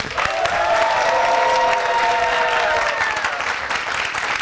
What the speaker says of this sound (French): Acclamation pour accueillir Mika